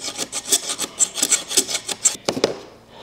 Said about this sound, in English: let's take this little flap file and file across the top of these